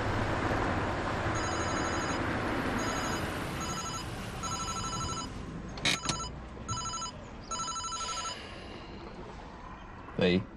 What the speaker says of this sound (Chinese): 好，我给林丽打，给林丽打